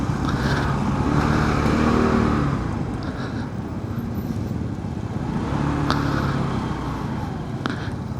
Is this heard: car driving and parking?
yes